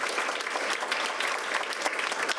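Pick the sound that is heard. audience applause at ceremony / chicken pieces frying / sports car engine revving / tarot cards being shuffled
audience applause at ceremony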